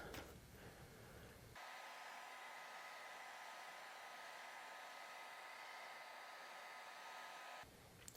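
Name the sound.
hair dryer blowing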